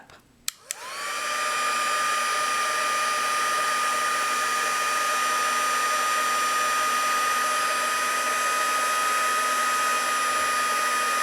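A heat tool blows onto cling wrap to crinkle it, starting after a couple of sharp clicks and then running as a loud, constant whirring hum with a steady tone for the rest of the clip.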